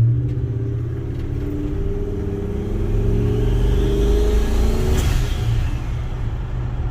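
Turbocharged Ford F-150 Lightning with a 2-valve engine accelerating, a loud steady rumble with rising engine tones that build toward a surge near the end, recorded close, with no talking.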